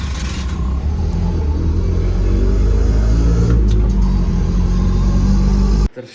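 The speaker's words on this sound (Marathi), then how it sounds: "आता रिक्षातनं." Auto rickshaw ride on a road, its engine a steady loud low rumble droning continuously throughout before cutting off abruptly near the end; no talking.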